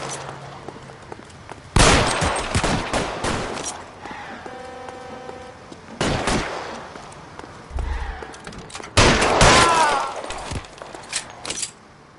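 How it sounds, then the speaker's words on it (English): Gunfire bursts from a shootout in the video game L.A. Noire, arriving in loud clusters of rapid shots separated by quieter stretches. A few sharp, close cracks stand out, with some background game sounds between the volleys. "Shooting at us."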